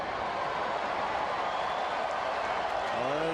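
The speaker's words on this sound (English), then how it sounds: "There's the cheer" A baseball stadium crowd cheers and applauds after a strikeout, a broad, steady wash of noise from many voices at a distance, with talk layered over it.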